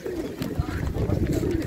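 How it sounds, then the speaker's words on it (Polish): Pigeons at a large outdoor market bazaar in Tczew coo in low, repeated throaty phrases close by, with background crowd noise and murmuring voices underneath. "Gołębi naprawdę, panowie, jest bardzo dużo."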